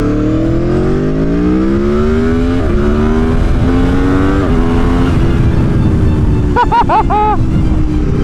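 An Aprilia Tuono 1100 Factory naked motorcycle revs its engine up to a rising, steady whine. It is punctuated by a few sharp throttle blips near the end, loud and close with no talking.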